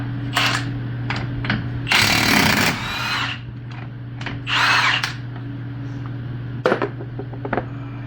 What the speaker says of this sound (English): Use your impact, pop it off.